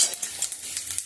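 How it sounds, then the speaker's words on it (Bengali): Cauliflower fries in hot oil with cashews, bay leaf, dried chilli, cloves, cardamom and cumin. A soft, steady sizzle sounds close with light stirring scrapes, continuous and fairly quiet, with no voices. "এগুলো দিয়ে এখন আমি ফুলকপিগুলোকে ভেজে নেব"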